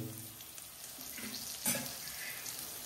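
Asafoetida hitting hot oil in a home kitchen, a faint steady sizzle with small crackles and a brief louder spatter midway, heard close.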